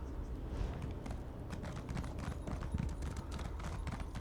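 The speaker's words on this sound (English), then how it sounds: "Like, I don't even feel like we have to push in the sprint key when we're just running on the horse." A mounted horse gallops across open ground in Elder Scrolls Online, its quick hoof clops running steadily and fairly soft for a few seconds, with no talking heard.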